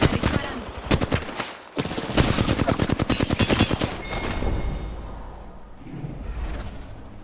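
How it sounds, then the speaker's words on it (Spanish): In a video game, rapid machine-gun fire aimed at the player rattles in loud, dense bursts, then tapers into scattered shots and rumbling ambience. "Me disparan."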